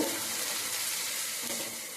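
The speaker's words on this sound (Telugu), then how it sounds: "ఇప్పుడు ఈ తాలింపు అయితే చక్కగా వేగనిద్దామండి. ఈ విధంగా ఎర్రగా ఏగేదాకా అయితే మనం తిప్పుకుంటూ ఉండాలండి." Tempering spices frying in hot oil for a carrot fry, a dense steady hiss and sizzle with faint stirring, close and continuous without pause.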